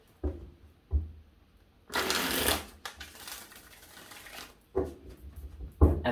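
A few sharp riffles and snaps of tarot cards, with one long whirring shuffle in the middle and a couple of quick taps at the end.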